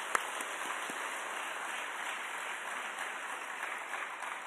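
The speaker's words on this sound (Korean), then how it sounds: "박수하겠습니다." Congregation applauding during a Wednesday evening church service, a steady dense wash of clapping that continues evenly throughout without voices.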